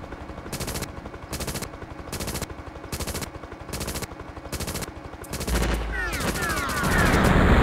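Bursts of rapid machine-gun fire repeat at a steady rhythm while shooting at a target in a PlayStation game from Essential PlayStation CD 1. The shots are loud and close, ending in a louder, denser burst of explosive noise.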